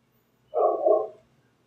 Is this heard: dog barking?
yes